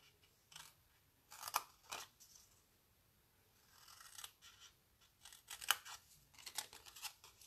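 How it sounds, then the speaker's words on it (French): Scissors snip through paper lines while making an Easter basket, giving irregular clusters of crisp, close cuts with quiet pauses between them. "je me munis donc d'une paire de ciseaux et je vais venir couper en fait ces lignes-là"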